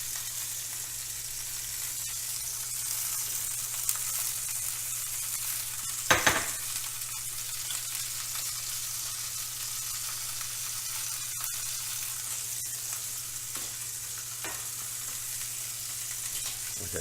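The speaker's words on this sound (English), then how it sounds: "now the idea here is just to sear these off and brown them" Seasoned pork, dusted with smoked paprika, sears and browns in a pan with a steady, faint sizzle throughout and one brief clatter partway through.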